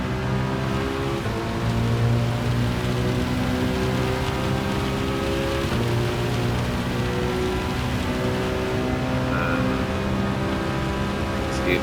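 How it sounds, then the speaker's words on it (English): Constant rain patters in the racing game Gran Turismo 7 at Circuit de La Sarthe, loud and steady, mixed with the sustained hum of a Citroën GT road car engine. "There's the rain"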